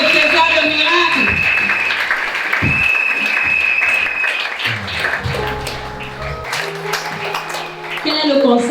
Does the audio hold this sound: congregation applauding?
yes